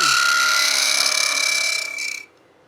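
A spindle gouge squeals and chatters against a wooden box as it is hollowed on a lathe, a loud sustained high whine with steady cutting noise that cuts off abruptly near the end.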